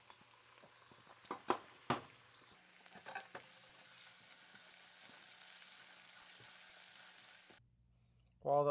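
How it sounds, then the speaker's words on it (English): Chopped onions hit hot olive oil in a pan and sizzle, with a few sharp clatters of stirring early on, then a steady frying hiss that cuts off abruptly before a short spoken phrase. "Now, since the oil is hot, we're going to add our onions. We're going to brown the onion."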